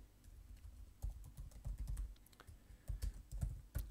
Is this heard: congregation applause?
no